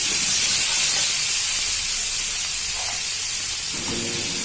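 Onion and garlic paste frying in a wok for a coconut fish curry, a steady loud hiss and sizzle that holds the whole time with a little stirring underneath.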